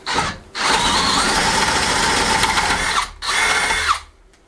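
A power drill runs loudly while boring a hole through wood for a handmade wooden door, with a short start, a long sustained whine, a brief pause and another burst before it winds down.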